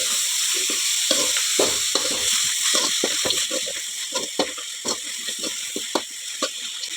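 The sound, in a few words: vegetables and leftover pundi frying in a pan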